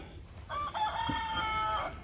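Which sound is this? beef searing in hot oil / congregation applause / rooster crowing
rooster crowing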